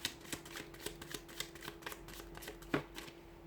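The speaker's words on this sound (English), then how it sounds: "let's give the cards a shuffle and see what messages are coming up for you here" Tarot cards being shuffled by hand, a steady run of soft riffling flicks and light card snaps at close range, with one sharper slap near the end and no talking.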